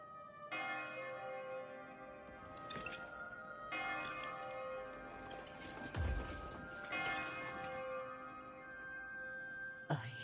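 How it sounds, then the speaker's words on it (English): Bells ringing in the video game Code Vein 2, several tolls with long ringing sustains overlapping one another, fairly clear and near, with a sharp hit near the end. "I hear bells."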